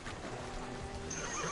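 A horse in a video game neighs close and clear in a brief whinny, with a faint steady background underneath and no talking.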